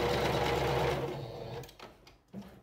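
A sewing machine runs steadily while stitching patchwork fabric scraps, a fast, even mechanical whir that slows and stops partway through, followed by faint handling noises.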